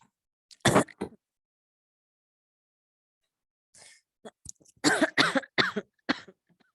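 A loud cough close by, then after a pause a burst of several rough coughs in a row, with quiet breaths between.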